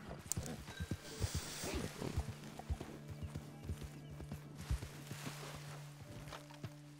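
Horse hooves clip-clop in a walking rhythm in the video game Red Dead Online, with a faint whinny and soft background sounds; the steps are fairly quiet and uneven, with no speech.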